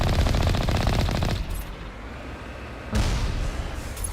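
Rapid turret gunfire in the Mass Effect 1 video game: a loud, dense burst of automatic shots that breaks off briefly, then resumes with another sharp volley.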